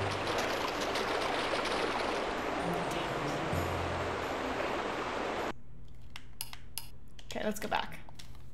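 Rushing water from a waterfall in the video game Barbie Horse Adventures, a steady broadband roar that runs loud for several seconds, then cuts out abruptly, leaving a few faint splashes and clatters.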